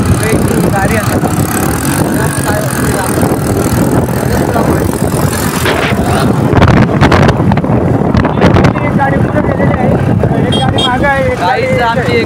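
A newly bought car drives along the road with steady, loud wind buffeting the microphone throughout, and people talk over the continuous rushing noise.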